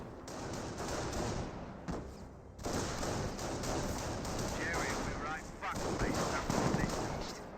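Automatic machine gun fire from an MMG carrier in the WWII strategy game Company of Heroes, steady rapid bursts rattling nearly throughout amid dense battle noise, with a short lull before the firing resumes.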